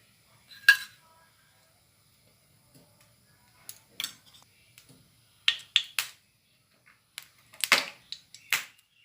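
Metal utensils clatter against a frying pan set on a gas stove while cooking dal fry, giving sparse, quiet clinks and knocks separated by near silence.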